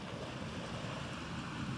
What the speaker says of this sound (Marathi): नारळ आणि सुरूच्या झाडांना बिलगून असलेला श्रीवर्धनचा समुद्रकिनारा लांबच लांब पसरलेला आहे.